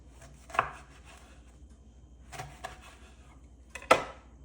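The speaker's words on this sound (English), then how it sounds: "And then I'm making small slices." Bread and cheese sliced for noon-o-paneer, three short knife cuts against a board spaced a few seconds apart, close and fairly quiet.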